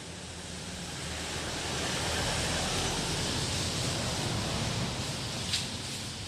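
Steady rain falls in Baguio City, Philippines, on an overcast morning, a dense, even hiss that swells slightly and then holds constant, with one brief faint tick near the end and no voices.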